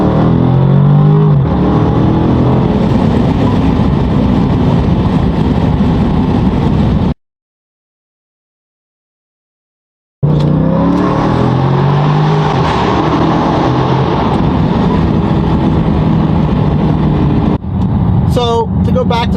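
A loud Dodge Scat Pack muscle car engine revs and accelerates in sport mode, pitch climbing and dropping between hard gear shifts, broken by a few seconds of silence before roaring again.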